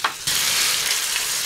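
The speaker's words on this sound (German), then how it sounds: "Das werden wir jetzt einmal rundum schön anbraten." Poultry sizzles loudly in a wok on an RF33 rocket stove. After a brief opening crackle, the frying hiss settles into a strong, steady sizzle that continues to the end, with no speech.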